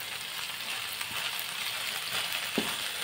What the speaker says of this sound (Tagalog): So, parang ginisa lang natin siya.